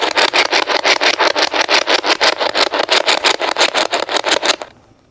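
A spirit box radio scans noisily in a reputedly haunted former writer's house, giving a loud, rapid stream of choppy static bursts at about six per second that stops abruptly near the end.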